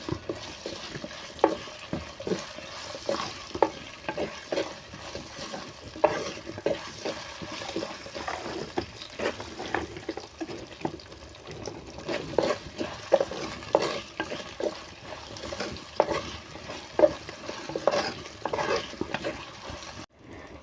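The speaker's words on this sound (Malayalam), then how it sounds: "ഇനി നമുക്ക് അരിഞ്ഞു വെച്ചിരിക്കുന്ന മാങ്ങ കഷ്ണങ്ങൾ ഇട്ട് കൊടുക്കാം" Onion, green chili, ginger and curry leaves are sautéed with mango pieces in a pan, giving a soft frying sizzle broken by repeated scraping stirs through the whole stretch, with no talk over it.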